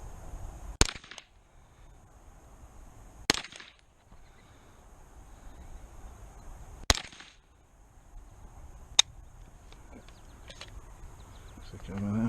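Sharp pistol shots from a P320 fitted with a CMC 3.5 lb straight drop-in trigger, four distinct cracks spaced a couple of seconds apart at an outdoor range, with faint voices in the quiet gaps.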